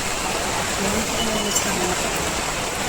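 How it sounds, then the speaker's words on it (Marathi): Heavy rain pouring down outdoors, a steady, dense wash of noise heard up close while people talk over it. "खतरनाकवाला पाऊस आहे."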